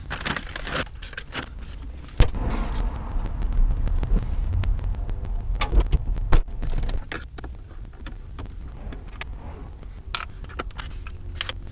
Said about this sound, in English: So let's take these screws out.